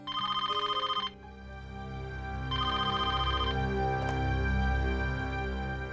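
A telephone rings in repeated bursts, a short trill at the start and another a couple of seconds later, sharp and fairly loud over a low background hum, with no one speaking.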